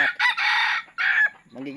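A Black Mackerel rooster crows close and loud in two long harmonic bursts, followed briefly by lower clucking or a voice-like sound at the end.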